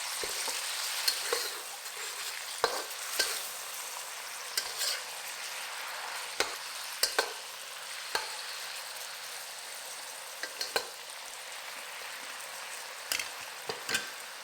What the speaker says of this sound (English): Turn the heat up to medium and fry it for about 2 minutes.